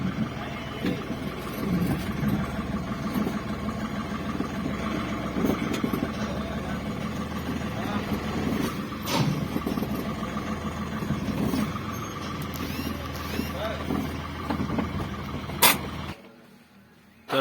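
An overloaded truck's engine idles at a forest loading site, a steady mid-pitched diesel rumble running continuously for most of the stretch before cutting off near the end.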